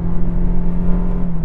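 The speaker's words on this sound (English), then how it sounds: "It does this thing when you accelerate hard, it holds the revs at a constant RPM for maximum power, and it just makes that mooing sound" A Toyota Prius's CVT gearbox holds the engine at a constant rpm under hard, full-throttle acceleration onto a freeway. It gives a steady, loud, droning moo with a fixed pitch and no gear changes.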